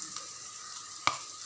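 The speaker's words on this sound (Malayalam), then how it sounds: "ഇനി അതിലേക്ക് നമ്മൾ മസാല ആഡ് ചെയ്യാണ്." Onion, garlic and ginger sizzle steadily in a pan as powdered spices like chili, coriander, turmeric, pepper and cumin go in for a mushroom curry, with one brief sharp clink partway through.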